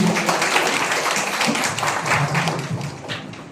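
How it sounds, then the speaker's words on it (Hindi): Applause from a seminar audience at a district agriculture, cooperative and animal husbandry workshop in Godda, steady clapping that fills the clip with some murmur of voices underneath. "जोरदार तालियां होगी।"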